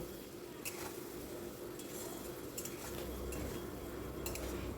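Spice paste being sautéed with potatoes in a pan for a Bengali koi fish curry, heard as a steady low scraping and stirring with faint clinks of a utensil against the metal, continuous and fairly quiet throughout.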